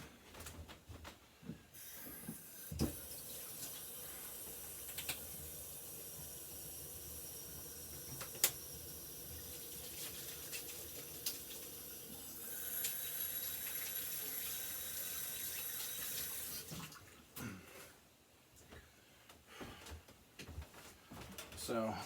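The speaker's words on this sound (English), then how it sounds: "Oh, I gotta wash my hands." Hands are washed under a running kitchen tap, a faint steady water hiss lasting most of the stretch with small splashes and soft handling sounds at the edges.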